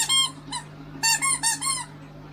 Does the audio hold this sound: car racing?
no